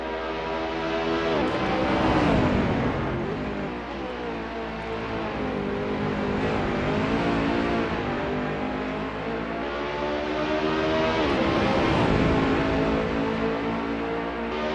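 A BMW race car engine drones steadily and loudly at Mount Panorama, Bathurst, in a racing game, its revs rising and falling gently through shifts and corners with no talk over it.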